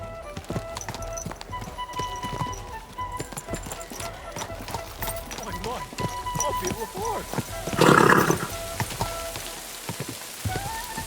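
Horse hooves clip-clopping at a slow walk in the medieval game Kingdom Come Deliverance 2, a soft steady rhythm under light rain-like ambience, with a brief louder burst near the end.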